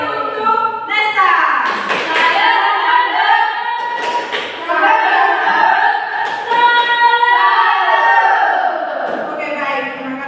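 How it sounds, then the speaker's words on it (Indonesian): A class of children claps and cheers for a classmate during a lesson, a lively run of overlapping claps and shouts with thumps, lasting several seconds. "tepuk tangan untuk Nesta"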